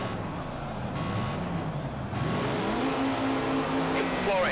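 A small, twitchy race car in Project Cars pulling away from the start, its engine revving and rising in pitch, steady and close, while someone talks over it.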